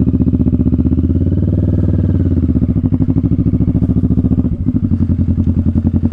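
A Kawasaki Vulcan S motorcycle engine runs steadily while riding, with a loud, close, continuous throb whose pitch rises and falls as the rider works the throttle and shifts gears.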